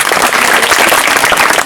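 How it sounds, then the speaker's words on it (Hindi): Loud, dense applause from a crowd, steady clapping filling the whole moment without a break. "ताली बजाएं।"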